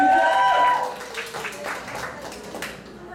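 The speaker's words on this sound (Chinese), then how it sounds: "我们还是抱着掌声鼓励一下" Applause from the audience at a Christian gospel hymn concert, a scattered patter of clapping that rises after a brief tonal voice or sound at the start and carries on at moderate loudness.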